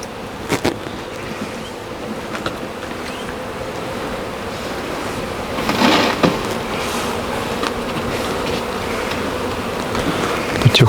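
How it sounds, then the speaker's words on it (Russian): Agitated bees swarm in a village yard near freshly mown grass, a dense continuous buzz with a few louder passes close by, heard alone without voices. "пчелы злятся"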